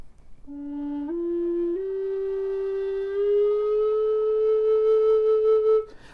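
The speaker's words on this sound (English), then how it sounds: "So you're just gently sliding from one note to the other" A wind instrument glides smoothly and gently from one sustained note up to the next, a clear steady tone stepping gradually higher over several seconds before cutting off, played alone.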